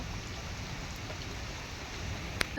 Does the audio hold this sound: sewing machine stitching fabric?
no